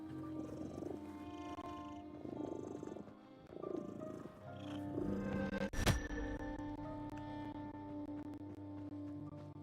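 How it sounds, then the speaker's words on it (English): A cat purrs steadily in the horror video game The Midnight Walk, a soft continuous rumble set against low droning game music, with a single sharp burst partway through. "Oh, it's a cat."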